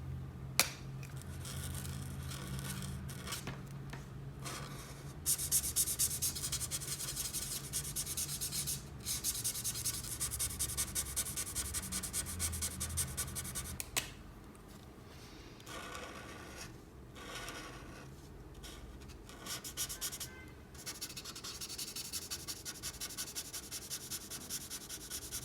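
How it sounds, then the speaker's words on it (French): Yellow marker strokes colouring a Torgamord drawing, a soft, steady scratchy rubbing of felt tip on paper with short pauses between passes, close and quiet. "Ensuite, je viens tout colorier avec la couleur Yellow Detach 5."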